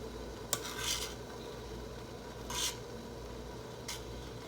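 A metal spoon scrapes and stirs blended green peas in a strainer for Haitian green pea sauce, with three faint scraping strokes spread over a few seconds against a quiet kitchen background.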